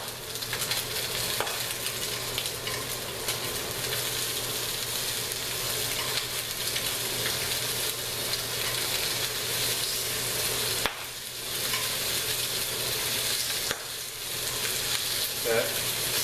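Slices of pork belly, cooked Korean barbecue style, sear in a pan with a loud, constant sizzle and crackle. There is a brief dip as they are flipped, then the frying carries on alone.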